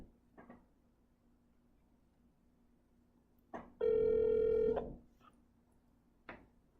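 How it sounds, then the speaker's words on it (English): A telephone call to a podcast guest is placed: a few faint clicks and taps, then a loud steady ringback tone lasting about a second, followed by more scattered clicks. "let's get Mike on the phone"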